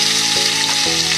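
Tomato fries in hot oil for a chutney, a loud close crackling sizzle that hisses continuously, with a couple of brief thuds from stirring.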